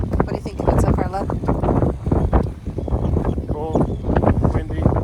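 Cold wind buffets the microphone on Grimsey Island in the Arctic Circle, gusting in rough bursts beneath people talking close by.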